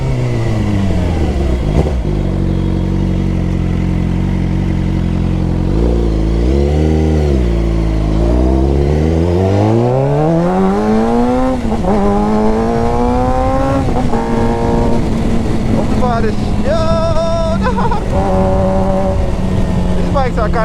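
A Suzuki GSX-R motorcycle on a night ride idles, then revs up through rising, sweeping engine pitches, loud and close, with a rider's voice talking over it.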